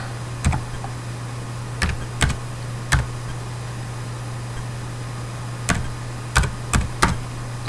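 Keys on a computer keyboard tapped in short, separate bursts while a formula is entered, about eight isolated clicks spread unevenly over a steady low electrical hum.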